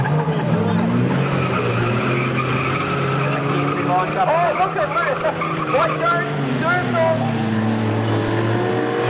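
Chain race cars at Beachlands Speedway in Dunedin, a loud engine roar with squealing, skidding tires warbling in the middle, while a commentator talks excitedly over the racing.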